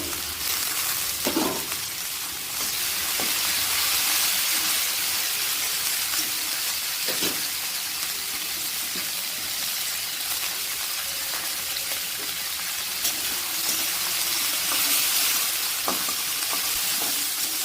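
Cabbage pieces frying in oil in a pan give a continuous bright sizzle and hiss, with occasional scrapes and knocks of a spatula stirring, steady and close throughout.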